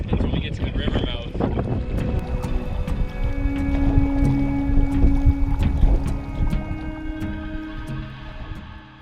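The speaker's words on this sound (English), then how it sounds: "the wind is definitely picked up compared to the last couple days" Strong, gusty wind buffets the microphone on a wilderness lake trip by boat, a steady broadband rush with water and hull noise, while people talk intermittently over it and a few sharp knocks ring out.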